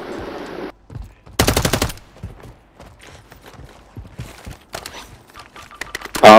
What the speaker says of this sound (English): I'm trying this gun out.